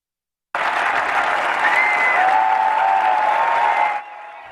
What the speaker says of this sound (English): The crowd went wild as Tiger made his way to the green on the 18th and final hole